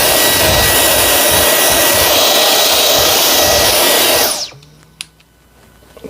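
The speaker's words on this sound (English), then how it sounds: "I'm going to be using my Dyson V10, and we're going to use this tool right here." A Dyson V10 cordless vacuum runs on max with a loud, steady high whine and airy rush for about four seconds, then cuts off abruptly, leaving faint handling clicks and quiet room noise.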